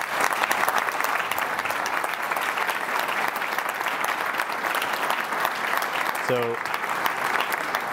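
Audience applause at a Leadership Kansas speaking event, sustained, dense clapping from a sizeable crowd that holds steady throughout, with a brief spoken word near the end.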